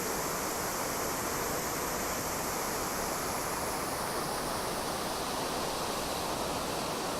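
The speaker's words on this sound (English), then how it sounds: "Milky glacier water." A milky glacier river rushes in a steady, dense roar of white water along the Pacific Crest Trail, loud and unbroken throughout, with no voices over it.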